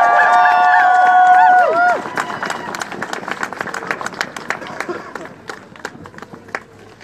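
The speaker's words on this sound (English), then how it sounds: "So please give Jace a big round of applause." Rally crowd at an outdoor healthcare rally in Olympia claps after sustained cheering and whooping, the applause thinning into scattered claps with some murmuring voices.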